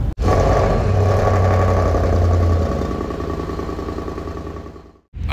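A Mercedes S-Class engine on the move, a steady loud mid-pitched drone with a low hum that eases off gradually before cutting out abruptly near the end.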